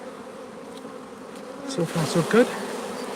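Honeybees hum steadily at low level while a beekeeper inspects the hive for queen cells, and a few louder buzzes pass close near the end as a person speaks briefly.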